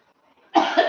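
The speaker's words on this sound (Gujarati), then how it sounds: "મરચાં બનાવ્યા જોવો બધાને ઉધરસ થઈ ગઈ" A single sharp, close cough bursts out after a near-silent moment, set off by fumes from chilies being cooked at home.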